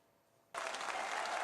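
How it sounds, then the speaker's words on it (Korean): Lawmakers in the National Assembly chamber break into sudden, sustained applause after a brief near-silent room tone, a dense wash of clapping that stays steady and loud to the end. "여당 의원들은 일어나서 박수를 보냈지만"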